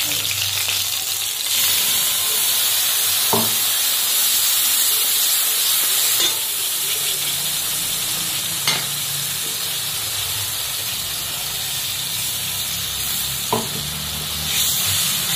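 Spice paste hits hot oil in a frying pan, giving a loud, steady, close sizzle with a few soft stirring taps along the way.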